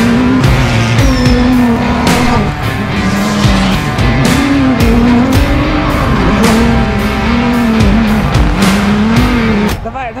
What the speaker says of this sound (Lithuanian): Dabar startuos kinietiška mašina.